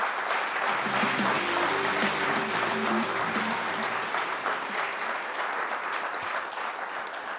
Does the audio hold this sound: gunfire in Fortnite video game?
no